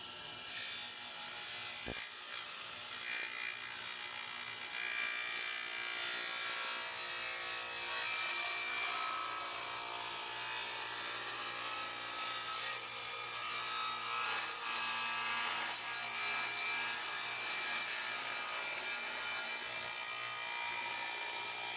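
A handsaw cuts through wood clamped against a tall fence for kitchen pullout shelves, a steady, continuous rasping close by, running alone throughout without talk.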